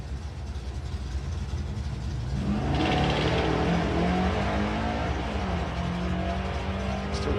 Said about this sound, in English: Still getting a little bit of tyre shake off the line.